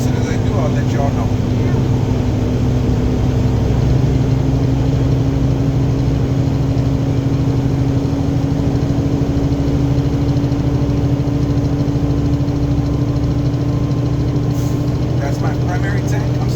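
A truck engine inside the cab, held at raised RPM to build air brake pressure: a steady, loud diesel drone with a constant hum for the whole stretch, and a few faint clicks near the end.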